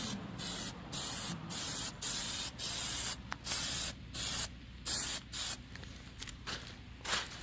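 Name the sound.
spray painting grills, first light coat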